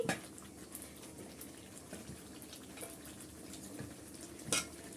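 Chicken pieces go into a pan of cooked-down spice masala for a roast, giving soft wet clatters and a low sizzle with scattered utensil clinks and a sharper knock near the end, fairly quiet and without talk.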